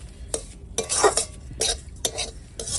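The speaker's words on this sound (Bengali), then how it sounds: "তো চলো সুজিটা এখন ভেজে নেব।" Semolina frying in a pan is stirred with a utensil, giving repeated short scraping strokes with a faint sizzle between them.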